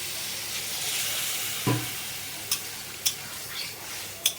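Water poured into a pan of cooking bottle gourd for lau posto sets off a steady hiss of sizzling, with a few soft clinks and taps of a utensil against the pan.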